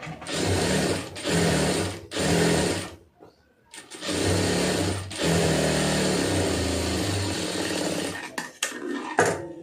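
A sewing machine stitches the seam of a cigarette pant in a few steady whirring runs broken by short pauses, close and loud, ending with quieter stop-start stitches.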